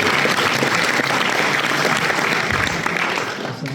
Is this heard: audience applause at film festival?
yes